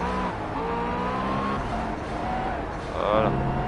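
Race car in Project CARS pulling out of a corner, its engine note climbing steadily in pitch with a brief tire squeal near the end, heard under continuous talk.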